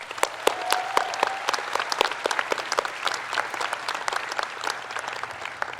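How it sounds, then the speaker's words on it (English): A large audience at the University of Iowa convocation applauds the University of Iowa Brass Quintet, a steady, dense patter of many hands with sharp individual claps standing out, sustained evenly throughout and heard alone. "Let's give them a round of applause."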